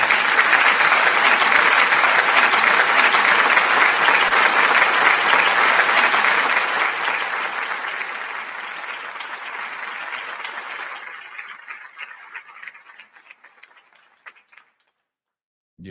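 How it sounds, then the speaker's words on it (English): Loud, dense applause for livestream moderators holds steady for several seconds, then thins and fades away to a few scattered claps and silence. "So I'm gonna give my moderators a round of applause."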